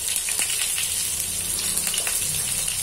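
Asafoetida hits hot oil for a dal tempering, a close, crackling sizzle with scattered sharp pops over a continuous frying hiss.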